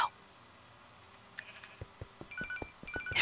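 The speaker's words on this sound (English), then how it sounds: "Oop, my phone's going off." A mobile phone rings with a short electronic ringtone of repeated bright beeps, fairly faint and close, alongside light clicking sounds, with no talking.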